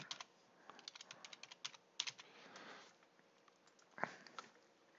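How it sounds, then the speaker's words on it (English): Typing on a computer keyboard to enter account details, a quiet run of irregular key clicks with a brief pause and a sharper tap near the end. "so I can just type in my account."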